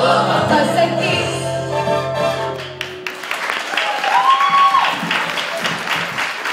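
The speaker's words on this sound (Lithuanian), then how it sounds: "Kartelė plojimai Urtei!" Audience applause for Urtė breaks out about halfway through, a steady wash of clapping that follows a short stretch of tonal music and carries on to the end.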